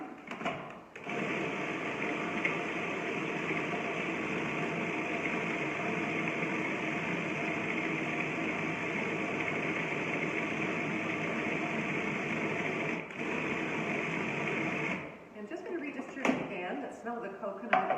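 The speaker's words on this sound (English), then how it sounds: "just balance the contents so that it actually is able to process smoothly" A food processor grinds raw cacao powder, coconut and dates with a loud, steady whirring drone that runs for about fourteen seconds. It then cuts off, leaving a few clattering knocks and handling noises.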